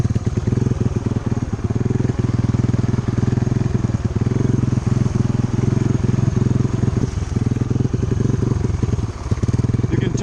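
Engine of an amphibious all-tire ATV running while driving, a loud close steady buzzing drone with rapid pulsing that holds at a constant level throughout.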